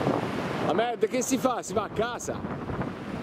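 Strong mistral wind at the seashore buffets the microphone with a steady broadband rush, heard under several people talking close by.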